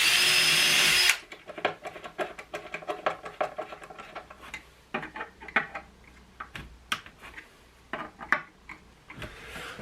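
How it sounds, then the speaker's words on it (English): A power tool drills and drives as a headstock is clamped onto a wooden baseboard for a homemade winding machine: a brief steady whine, then a string of irregular clicks, taps and knocks close by. "So I'm just now clamping the headstock onto this baseboard just to stop everything jumping"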